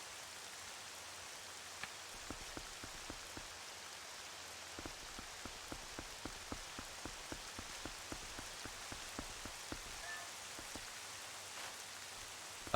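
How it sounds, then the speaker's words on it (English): Steady rain pours over Hyrule Castle in The Legend of Zelda: Twilight Princess HD, a dense hiss of drops with scattered sharp ticks of heavier drops striking surfaces, fairly quiet and with no voices. "And the rain sets in for the perfect atmosphere for Hyrule Castle."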